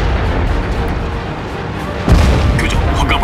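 A single heavy tank cannon shot penetrating an enemy tank in World of Tanks, a loud boom about two seconds in that cuts sharply through a dense, rumbling battle bed and then decays with crackling debris.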